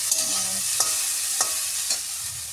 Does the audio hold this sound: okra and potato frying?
yes